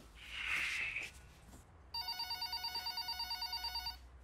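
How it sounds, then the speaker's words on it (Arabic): A telephone rings in a domestic comedy scene, sounding as a loud, steady electronic trill of rapid repeated pulses that continues for about two seconds after a brief burst of other noise. "التليفون بيرن"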